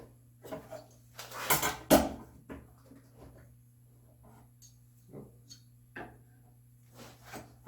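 A knife scores walnut wood to mark dado walls on a hand-tool bookcase, giving faint scattered clicks and short scrapes with a louder cluster of sharp knocks early on, close and quiet.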